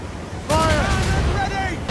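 A ship's cannon fires once in the video game Assassin's Creed Rogue, a sudden booming blast with shouting crew voices ringing over the lingering noise.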